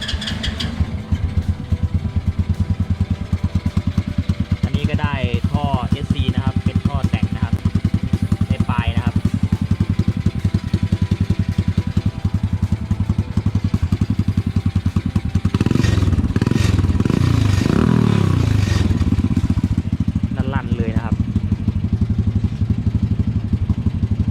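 A small homemade jeep's engine starts and settles into a loud, steady, rattling idle that stays close throughout. Someone talks over it, and a louder revving stretch comes partway through.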